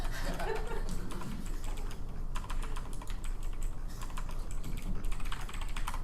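Rapid, continuous typing on a computer keyboard, with fast, irregular key clicks heard close up, steady and fairly quiet, with no one speaking over it.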